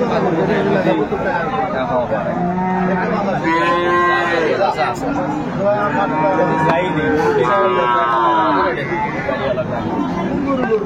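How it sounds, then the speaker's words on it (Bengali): Cows and young calves mooing at a busy village cattle market, with several loud, drawn-out calls rising over constant crowd chatter and people talking nearby. "সুন্দর মানের গাভী বাছুর গরুগুলো কালেকশন করছে বিলাল ভাই।"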